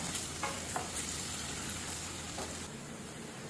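Onions fry in oil in a pan until soft and translucent, giving an even, moderate sizzle with occasional soft scrapes of stirring and no one speaking.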